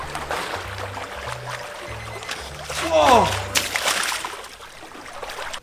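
Water splashes in a swimming pool as a swimmer paddles with finger flippers, a brief sloshing burst near the middle, with a short exclamation and background voices around it.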